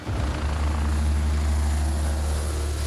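A helicopter's heavy rotor thrum and engine roar, loud and constant, dominated by a deep pulsing low end.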